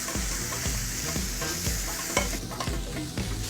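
Steady crackling sizzle of spice paste with lemongrass frying in a hot pan, with repeated scraping stirs at a regular pace, close and fairly loud.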